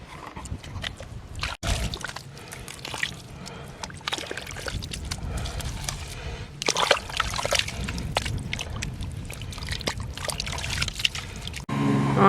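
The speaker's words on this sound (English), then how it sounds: "there's water just going everywhere right now" Water escaping from a leaking pipe fitting at a meter, a steady close splashing trickle that carries on throughout with small sloshes.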